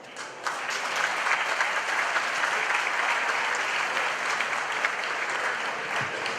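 Warm, steady applause from an audience at a LULAC 50th anniversary reception greeting Hector Flores, sustained clapping from a roomful of people lasting several seconds at even volume.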